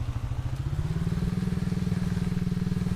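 An ATV engine revving up during wheelies, a loud close putter that climbs in pitch and holds a steady, fast pulsing throb, with no voices.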